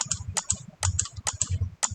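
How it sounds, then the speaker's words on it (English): Someone typing on a computer keyboard: quick, close, crisp clicks that come in short irregular bursts, with brief pauses between the runs of keystrokes. "I'm typing something rubbish."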